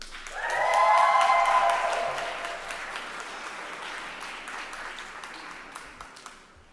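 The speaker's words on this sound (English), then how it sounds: "Let's give a round of applause to all of our graduates." An audience applauds graduates at the closing ceremony of a master's teaching program in Spain: dense, steady clapping swells quickly, with a brief burst of whooping cheers early on, then gradually thins and fades while continuing to the end.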